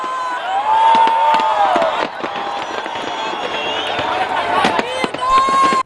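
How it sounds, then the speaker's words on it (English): Fireworks burst over Copacabana beach and the Atlantic Ocean, with whistling rockets and crackling pops layered over a loud, continuous cheering crowd at a New Year's display. "The massive firework display over the Atlantic Ocean left the crowd amazed"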